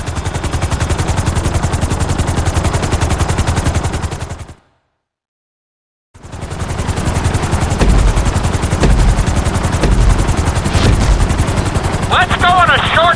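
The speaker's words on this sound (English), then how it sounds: "You've been doing so well in the plane, we're going to put you in a helicopter for this lesson." A helicopter in GTA 5 gives off a loud, steady rotor chop that cuts out briefly and then resumes, with short bursts of gunfire-like cracks mixed in near the end.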